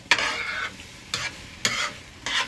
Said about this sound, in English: So I'm making my egg sauce.